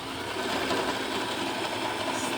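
A sewing machine runs in one continuous fast stitching burr, steady and close, while a shoulder seam is sewn on a mini T-shirt.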